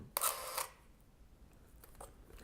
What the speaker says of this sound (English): Let me fire the shutter for you.